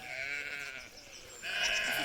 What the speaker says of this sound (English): You hear the sheep thinking they're getting something, but they're not.